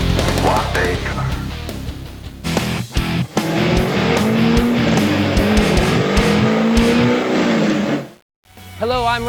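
A C6 Corvette drives hard, its engine roaring loud and steady with tires squealing, and the noise cuts out briefly near the end before resuming.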